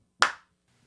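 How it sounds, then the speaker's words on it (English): A single sharp hand clap rings out alone, its short echo fading quickly into silence. "I'll clap again."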